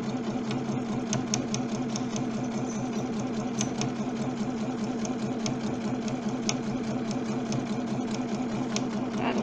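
A sewing machine runs steadily while stitching a stirrup cover, its fast, even mechanical chatter repeating closely and continuously at a constant moderate level, with no one speaking.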